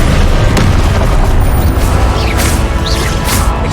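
Confringo spell blast in the video game Hogwarts Legacy, a loud continuous booming explosion roar with crackling bursts throughout, no talk.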